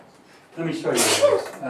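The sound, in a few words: sneeze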